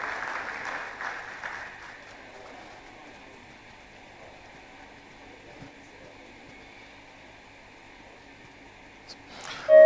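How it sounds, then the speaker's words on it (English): Steady audience applause at an academic award ceremony as a professor steps forward, a sustained clatter of clapping that thins out over several seconds before a louder sound at the end. "Please, a round of applause for Professor Oyawe as she steps forward."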